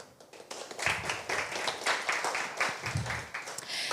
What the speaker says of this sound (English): So applause, please.